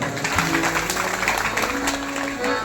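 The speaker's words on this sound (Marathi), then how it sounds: "अशी महाराज मंडळी त्या टाळ्या वाजवा" Audience clapping at a Ram katha, a moderate, steady patter of many hands with sustained singing or harmonium tones running beneath it.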